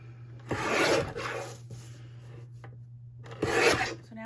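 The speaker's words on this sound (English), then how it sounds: "So this is the paper trimmer I use." A Swingline paper trimmer slices along paper edges in two separate, close-up sliding cuts, each a short scraping swish with a quiet pause between them.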